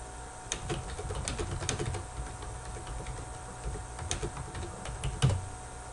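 Keys clatter on a computer keyboard in quick, irregular bursts of light taps while a note is typed, fairly quiet and close, with no speech.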